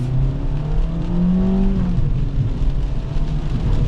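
A Hyundai Veloster Turbo hot hatch accelerates with its dual clutch transmission, the engine note rising and then dropping with a crisp upshift, heard steadily from inside the car with no talk.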